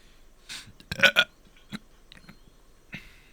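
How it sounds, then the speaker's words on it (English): A person lets out a few short, close burps, two bunched together in the middle with smaller gulping sounds before and after, in an otherwise quiet room. "I'm burping."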